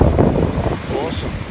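Big ocean waves surge and break at Ocean Beach near high tide, a loud continuous roar of surf mixed with strong wind buffeting the microphone.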